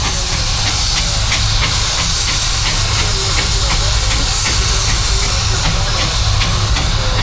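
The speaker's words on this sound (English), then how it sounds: "There's a steam engine called Lady Sarah." A steam engine at a steam rally in Worcestershire hisses loudly and steadily, close by, with a faint rhythmic chuffing underneath. A voice speaks briefly.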